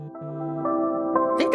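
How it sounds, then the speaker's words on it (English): A phone ringing in the video game My Dear Hatchet Man, a steady electronic tone that grows louder and layers with brighter chiming partway through, with a couple of short sharp knocks near the end. "I think that's our phone"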